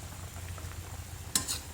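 Patatim pork stew boils hard in a covered pot, a soft steady bubbling and simmering hiss, with one sharp metallic clink of a lid or utensil near the end.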